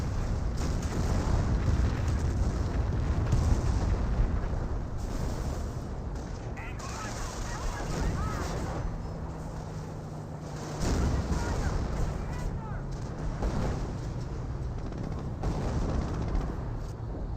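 Game battlefield in Company of Heroes with dense rumbling explosions and bursts of combat noise throughout, including a sticky bomb blast among the din, heard under a caster's continuous commentary.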